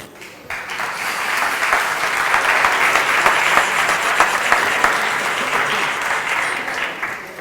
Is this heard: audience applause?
yes